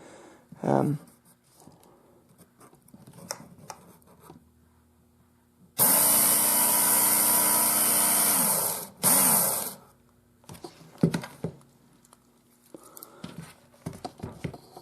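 A Work Sharp knife sharpener grinds a knife blade freehand in one loud, steady burst of about three seconds, followed by a brief second pass, with quiet handling noises and low talk before and after.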